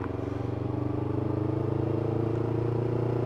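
A two-stroke motorcycle similar to a Suzuki Tornado runs close by with a steady, buzzy drone and pulsing low hum that swells slightly as it passes, and no speech is heard.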